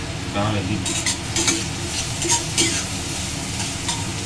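Onion fries in a pan on a gas stove at full flame, a steady close sizzle with repeated stirring clatter of a utensil against the pan, a faint voice briefly in the background.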